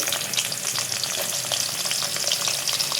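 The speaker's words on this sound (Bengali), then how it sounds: "কড়াই গরম করে তেল দিয়ে দিয়েছি, তেজপাতা, এলাচ, দারচিনি দিয়ে দিলাম" Bay leaf, cardamom and cinnamon frying in hot oil in a wok, a steady close crackling sizzle with fine popping throughout, no voices.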